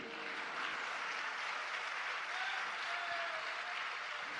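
A seated crowd at a Jain religious discourse during the Dashlakshan festival claps continuously in an even, dense wash of applause, moderately distant, with no voices heard.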